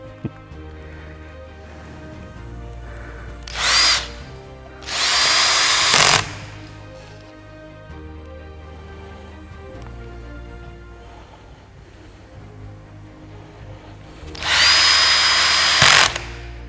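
A cordless screwdriver drives screws into wooden model-railway layout modules in three loud, close whirring bursts: two short ones early and a longer one near the end, separated by quiet background hum.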